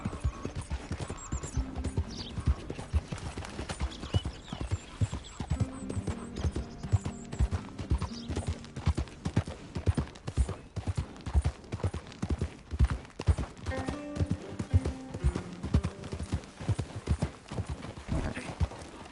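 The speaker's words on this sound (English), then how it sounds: "That's a fine horse." Horse hooves clip-clop in a steady, continuous rhythm, close and fairly loud, with the quick hoofbeats of a horse moving along at a trot, in the video game Red Dead Redemption 2.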